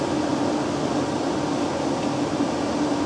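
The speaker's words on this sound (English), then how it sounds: "you can see that the aircon's gone on, and we're straight away, we've gone to cooler mode" An air conditioner runs in cooler mode in a workshop, giving a steady broadband whooshing hum of fan and airflow, even and continuous with no voices.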